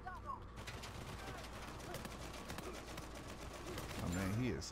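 Faint, rapid gunfire from Uncharted 4 co-op multiplayer rattles steadily in the distance under game ambience, and a voice rises briefly near the end.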